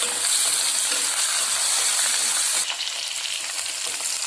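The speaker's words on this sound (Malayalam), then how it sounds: "ഇവ വഴന്ന ശേഷം മുളക് പൊടിയും മഞ്ഞൾപ്പൊടിയും ഇട്ട് വഴറ്റുക." Onion, green chili and ginger sauté in oil with chili powder and turmeric, giving a steady, close frying sizzle that dips slightly in intensity partway through, with no talking.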